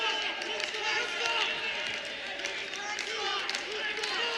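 A college wrestling arena crowd roars continuously and rises to its feet at the close of a heavyweight bout between Missouri and UNI wrestlers, a dense, sustained cheer with scattered claps and shouts.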